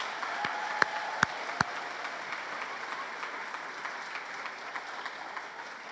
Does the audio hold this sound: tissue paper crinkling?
no